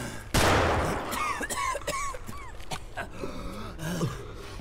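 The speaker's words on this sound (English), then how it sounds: "there's a guy outside shooting us" Gunfire in Escape From Tarkov: a heavy opening burst followed by a string of sharp shots with ringing metallic tails, fairly close and loud, no talk.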